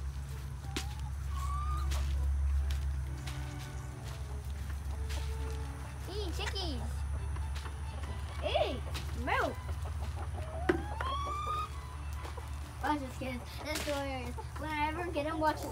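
Chickens cluck and squawk throughout inside a backyard chicken coop, with scattered calls near and farther off over a steady low hum, while people talk at intervals.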